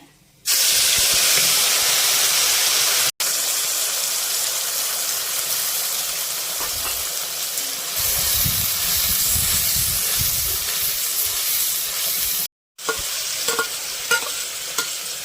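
Onion paste drops into hot oil already holding cinnamon and cardamom for egg korma, setting off a loud, close sizzle and hiss with stirring scrapes. Two brief silent breaks cut the sound, and no one speaks.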